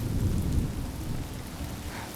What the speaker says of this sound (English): Without this rain,